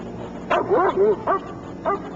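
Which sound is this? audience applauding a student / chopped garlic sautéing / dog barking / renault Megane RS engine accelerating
dog barking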